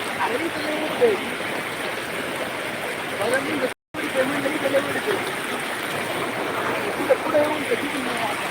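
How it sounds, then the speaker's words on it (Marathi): Water flows steadily nearby, a continuous rushing and gurgling like a stream, with a voice speaking over it and a brief dropout in the middle. "पाणी बघा पाणी मित्रांनो पाणी"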